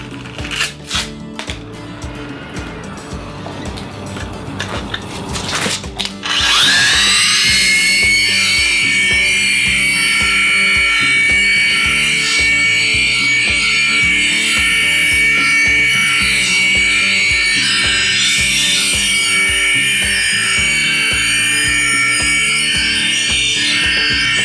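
A Makita PW5001C wet polisher running a 100 grit pad on a workpiece, beginning with rough rubbing and scraping before settling into a loud, continuous high-pitched grinding whine.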